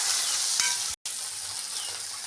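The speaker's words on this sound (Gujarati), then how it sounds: "આપણા ભીંડા શેકાઈ ગયા છે" Okra fries in a pan with a close, steady hiss and sizzle, briefly interrupted by a split-second gap of silence.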